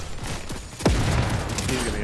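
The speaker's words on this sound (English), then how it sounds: "Oh, behind us, somebody's shooting us." Video game gunfire from enemies shooting at the players, a sharp close shot followed by rapid rattling bursts, moderately loud with faint background talk.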